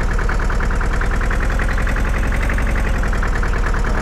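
A tractor engine idles in Farming Simulator 2013, giving a steady, rhythmic chugging pulse that stays close and even throughout, with no voices.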